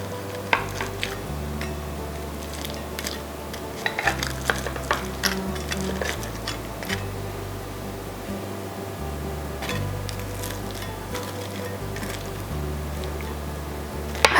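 Chicken Florentine bake with a crispy top crackling and sizzling, a steady close hiss dotted with small pops and faint scraping of a utensil against the dish, no voices.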